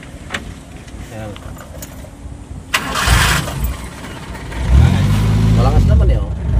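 A Mitsubishi Lancer with a hard-starting problem cranks and catches, the engine rising to a rough running note, with people talking nearby.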